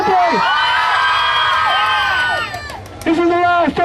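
Children in a crowd at a Townsville show scream and cheer together in one long, loud burst, which fades and then surges again in a second shorter shout.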